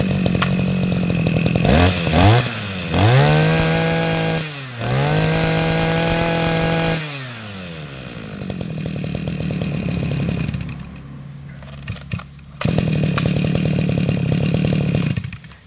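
A small 20cc two-stroke brush cutter engine revs up and down repeatedly, whining loudly, then settles into a rough idle before revving hard again.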